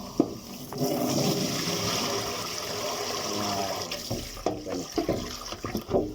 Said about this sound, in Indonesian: Lepas itu sudah kita cuci, kita tiskan air pula kan.